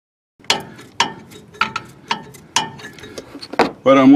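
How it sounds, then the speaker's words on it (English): A 14mm wrench turns a truck shock absorber to tighten it, giving a run of about eight sharp metallic ratchet clicks at a steady, unhurried pace, close and fairly loud, with a brief louder burst at the end. "I'm going to put that 14mm wrench on top of this shock again, and I'm just going to turn the shock to tighten it"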